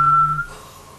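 A voice imitates a UFO, holding a low hum beneath a thin, steady whistle that slides off and fades within a second.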